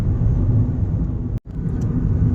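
Continuous low cabin rumble of a 2007 Toyota Yaris rolling down the road, steady and fairly loud, broken by one abrupt dropout of near silence partway through, with no voices.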